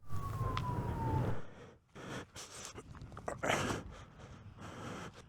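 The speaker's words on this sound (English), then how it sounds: "I hear police sirens" A police siren wails briefly at the start in a ghost town, a single tone sliding downward, then gives way to footsteps and scattered noise nearby.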